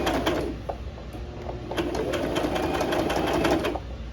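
A sewing machine stitches fabric close by, with a steady, rapid mechanical whirr and a rhythmic clatter that runs without a break from start to finish.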